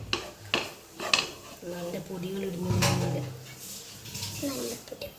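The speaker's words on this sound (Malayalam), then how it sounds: "ഈ പൊടികളൊക്കെ ഇട്ട് നല്ലവണ്ണം വാട്ടുക. മിക്സ് ചെയ്യുക." Spice powders are stirred in a cooking pan for a madhooth dish, with scraping and light metallic clatter of a utensil against the pan, mostly under a person talking.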